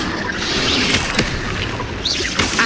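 The Incendio fire spell cast in the video game Hogwarts Legacy gives a loud, sustained roaring whoosh with a couple of sharp bursts and crackles layered over it.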